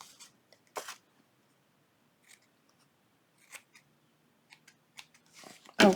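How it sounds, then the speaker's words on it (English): Scissors snip a paper strip for a junk journal in several quick, crisp cuts spaced out across a quiet room, with a louder handling rustle at the end. "We're going to also cut this"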